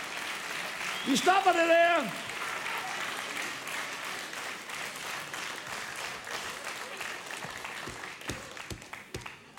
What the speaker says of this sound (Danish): Folk begynder at klappe og gå ud af salen for helvede.